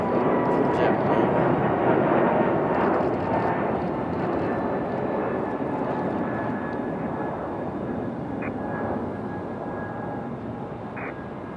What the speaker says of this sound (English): Taking off like a rocket, this one. Absolute rocket launch here for JetBlue.